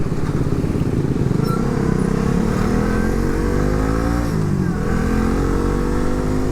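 Suzuki GSX S150 motorcycle cruising at low revs around 5,000–7,000 RPM, a steady loud engine drone with gently rising and falling pitch, wind rush over it throughout.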